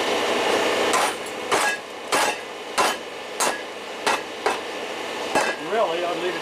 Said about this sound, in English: Give it a whack.